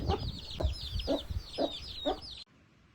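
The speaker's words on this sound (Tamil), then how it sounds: "நம்ம கோழி குஞ்செல்லாம் பாருங்கள் நல்லா இருக்குது" A hen clucks in a regular series of about five short calls, close by, with soft peeping of chicks behind, then the sound cuts off.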